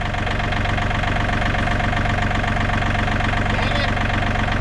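A tractor fitted with forks idles close by, its engine holding a loud, steady, low throbbing rumble throughout with no change in pace.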